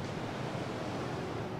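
Ocean waves washing ashore at Glass Beach, a continuous even wash of surf with some wind noise, steady and moderately close, with no voices.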